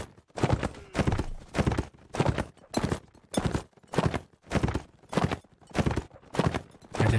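Rhythmic clip-clop of a horse's hooves in the medieval combat game Mount & Blade Warband, sharp, close, evenly spaced strikes repeating in bursts with brief gaps between them.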